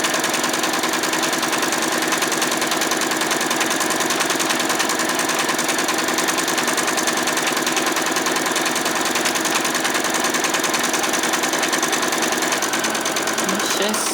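Sewing machine running a long gathering stitch around a doll's skirt, a close, loud, continuous mechanical hum with rapid needle rhythm that holds steady throughout.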